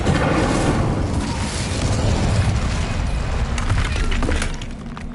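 A Confringo blasting spell explodes in a Harry Potter video game with a loud, sustained booming burst and crackling debris that fills the clip, fading slightly at the end.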